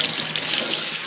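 Water pours steadily from a tap while a Phalaenopsis orchid is watered, giving a continuous close, loud splashing hiss without pauses.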